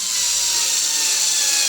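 Teccpo cordless screwdriver driving or removing a screw in a piece of furniture, a steady close high-pitched motor whine held without pause.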